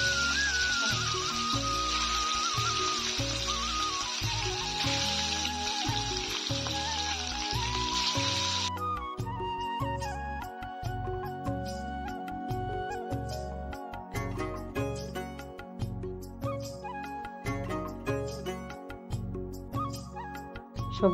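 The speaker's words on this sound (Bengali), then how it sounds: "এবার ডিমগুলো একে একে দিয়ে আমি ফ্রাই করে নিচ্ছি।" Eggs frying one by one in a little white oil in a frying pan make a bright, steady sizzle under rhythmic background music for about nine seconds, then the sizzle cuts out and only the music continues.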